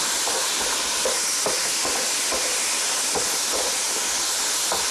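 Tofu frying in a wok with soy sauce, kept constantly moving and stirred, giving a steady hissing sizzle with light scraping taps scattered throughout.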